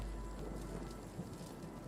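Steady rain hisses in a video game, with a soft low rumble of distant thunder underneath and no talk.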